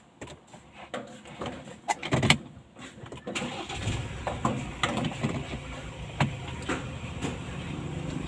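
A car's engine cranks and starts after a pause, settling into a steady idle under broadband road and vehicle noise, fairly close and moderately loud.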